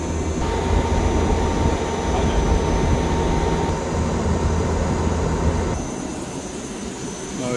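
A TVR 7G series VRF air conditioner outdoor unit runs with a steady, loud broadband whir and low hum, easing slightly quieter near the end as its load drops.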